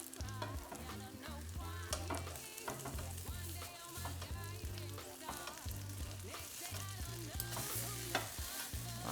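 Vegan Salisbury steak patties frying in a pan, a constant faint sizzle broken by repeated scraping as a spatula works underneath to lift them, close and unaccompanied by speech.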